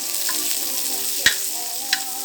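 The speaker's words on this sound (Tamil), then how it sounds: "முதல்ல வெங்காயத்தை வணக்கிக்கோங்க. அதுக்கப்புறம் தக்காளி, கொத்தமல்லியை வந்து அதில் போட்டுக்கோங்க." Onions, tomato and coriander sautéing in a pan, a steady close sizzle with a couple of faint taps from stirring.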